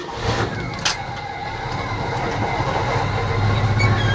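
The engine of a 1965 Chevrolet C10 pickup catches after a brief clank and settles into a steady, throaty rumble that grows slightly louder as it runs.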